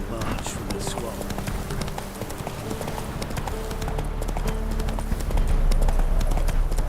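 Roach, a horse in The Witcher 3, gallops in a steady, rapid clip-clop of hooves that carries on throughout, with battle ambience underneath, and the hoofbeats grow louder toward the end.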